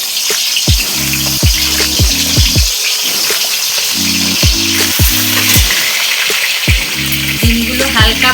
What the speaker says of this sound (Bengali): ডিমগুলো হালকা ভাজা হতে থাক